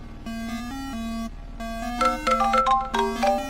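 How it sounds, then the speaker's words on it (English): A melodic electronic phone ringtone playing a repeating tune of bright tonal notes, loud and steady with no talk over it, meant as a ring from a phone buried in a cemetery. "To his horror, a ringtone echoed from below."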